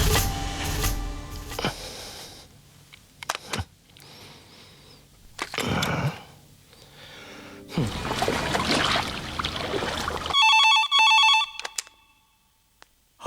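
A telephone rings with a repeating electronic trill near the end, after stretches of noisy breathing and rustling sounds.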